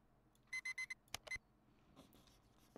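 An alarm clock in the horror game Exanimum: The Silent Call gives four quick, even electronic beeps, followed by two sharp clicks as it is silenced, then faint rustling.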